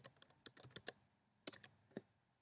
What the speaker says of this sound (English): you can go ahead and type in your name